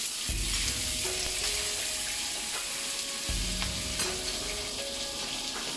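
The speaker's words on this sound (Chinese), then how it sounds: "稍微翻炒几下" Green and red pepper strips stir-fried in a hot wok with garlic, a bright steady sizzle broken by a few scraping stirs and tosses, close and alone without any voice.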